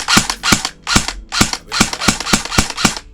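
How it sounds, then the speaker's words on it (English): A Specna Arms SA-A03 airsoft M4 firing single shots: nine sharp, loud, close snaps at a fairly steady pace of about three per second, each with a short mechanical clack, and no voices. "this is what the gun sounds like"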